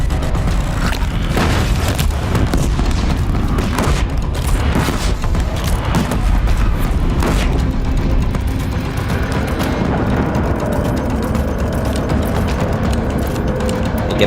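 Booming bomb explosions in Horizon Zero Dawn during a boss fight go off loudly and continuously, and dense crashes and rumbling fill the whole stretch with no talk.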